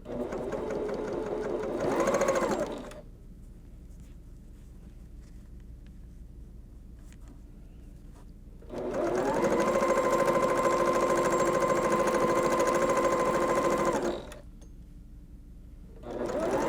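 A sewing machine stitching quilt pieces together runs at slow speed in two steady, even whirring passes of several seconds each, with quiet gaps between them, close by and loud.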